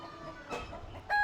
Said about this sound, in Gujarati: સરસ મજાનો કુકડો ચિકન